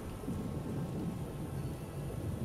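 A magical thunderstorm in The Witcher rumbles as a steady, dense roar of thunder and rain with no breaks, loud and continuous for the whole stretch.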